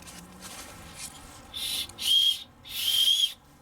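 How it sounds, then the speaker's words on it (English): Two or three short, shrill blasts from a small whistle on a backpack sternum strap in quick succession, fairly close and a little thin, with a quiet pause before them. "Not a great whistle, but a whistle."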